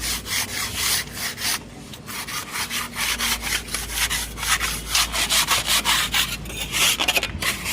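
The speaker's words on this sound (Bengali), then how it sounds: "কত সুন্দরভাবে ঘষছে দেখা যাচ্ছে আমাদের দেয়ালটাকে। তো ঘষে মসলিন করে দিচ্ছে।" Wall putty is rubbed down by hand on a wall at a construction site, a steady dry scraping that runs in continuous back-and-forth strokes, close and fairly loud, with no voices.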